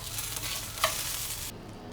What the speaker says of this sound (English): the onions are starting to caramelize, getting a little char on them, as well as the habaneros